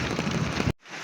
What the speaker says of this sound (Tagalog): Ayan po yung ulan. Nagtuloy-tuloy na po siya.